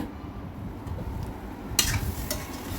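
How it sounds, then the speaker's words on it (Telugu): Ridge gourd masala curry stirred in a pan over heat, with a constant close sizzle and a couple of sharper scraping strokes near the end. "ఇప్పుడంతా మళ్ళీ కలుపుకోవాలి"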